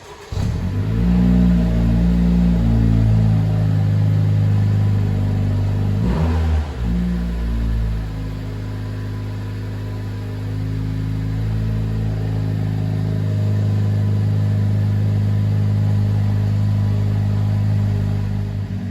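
A 2019 Honda Civic FK7 1.5 turbo with CVT idles in a showroom with a deep, steady exhaust hum, briefly revving near the start before settling back to a constant low drone.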